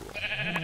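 A single short, wavering sheep bleat from Minecraft, clear and close, with no talking over it.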